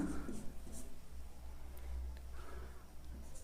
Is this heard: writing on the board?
yes